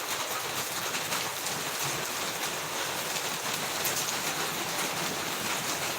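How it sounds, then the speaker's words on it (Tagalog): Strong wind roars through Pampanga during Super Typhoon Rolly, a steady, loud broadband rush with rain mixed in, unbroken for the whole stretch and with no voices. "Patuloy na po lumalakas yung hangin."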